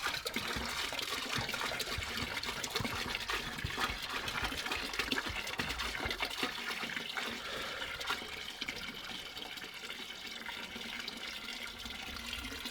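Fresh water poured into an outdoor medaka fish tub, a steady splashing, gushing stream close by that runs continuously throughout.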